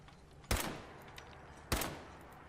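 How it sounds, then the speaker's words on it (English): Two sharp, loud gunshots from the video game Fallout 4 crack about a second apart, each trailing off in a short echoing decay, with no voices. "I don't know what that gunshot was."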